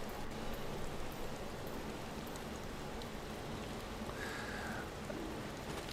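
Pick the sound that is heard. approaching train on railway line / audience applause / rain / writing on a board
rain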